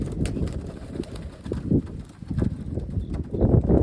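Pigeons land nearby with soft wing flutters and scuffling feet, mixed with brief coos and bird calls in an irregular burst of close, moderately loud activity.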